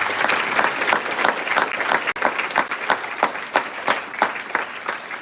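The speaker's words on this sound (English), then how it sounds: "Please give him a round of applause, everybody." Sustained applause from an audience at an achievement awards gallery ceremony, steady dense clapping across the whole stretch with a brief dip midway, loud and close.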